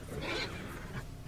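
A horse whinnies in Red Dead Redemption 2 while being broken, a brief, fairly loud neigh with a faint rumble of background noise beneath it.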